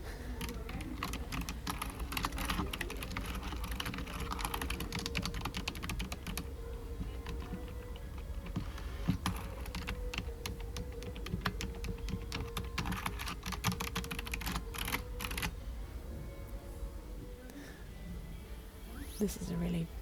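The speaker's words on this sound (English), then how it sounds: "There's something wrong with the keyboard." Keyboard typing in an IKEA store, a steady run of clicky keystrokes that carries on through the whole stretch over a busy, roomy store background.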